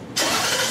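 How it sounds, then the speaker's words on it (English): A 2000 Lexus RX 300 engine cranks and catches abruptly, then holds a loud, steady broadband roar close by, with no voices. "Go ahead, start the car."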